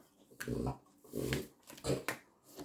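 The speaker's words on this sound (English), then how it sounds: "That's my dog making snorting noises." A dog snorting and snuffling in quick, uneven bursts at close range, with breathy grunts like a pig; no one speaks.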